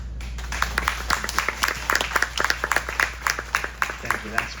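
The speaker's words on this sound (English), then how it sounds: "That's probably the biggest clap in my whole entire life" Church audience clapping in a steady, rhythmic stream of sharp claps that fills the room, with a voice coming through faintly underneath.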